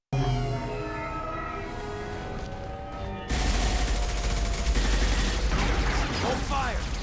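Gunfire in the sci-fi shooter Mass Effect 2: a steady tonal backdrop gives way to a loud, dense wall of continuous shooting and noise that keeps going to the end.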